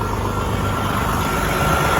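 A truck engine idling nearby, a steady loud low rumble and hum with no change in pace, alone without talking.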